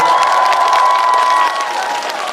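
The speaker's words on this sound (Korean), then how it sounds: "아무튼 우리 꼬마한테 박수 한번 부탁드립니다." At an outdoor concert in Imsil, a crowd applauds and cheers loudly. The mix of clapping and shouting is brief and holds a thin sustained ringing tone, fading slightly near the end.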